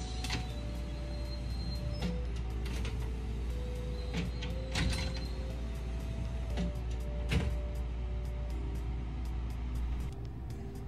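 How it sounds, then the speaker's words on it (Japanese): Doors of a JR Kobe Line 207 series local train slide shut at the platform amid steady station hum and scattered clicks and thumps, moderately loud and fairly close, with no talking. "ドアが閉まります。"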